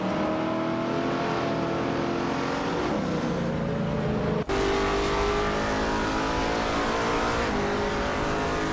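Race car engines in aggressive racing, a loud continuous high-revving drone with pitch rising and falling through gear changes, an abrupt cut midway where the mix jumps to another car roaring close up, no voices.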